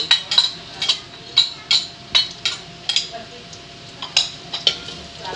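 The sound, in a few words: stirring ginger and garlic in a pan while cooking laing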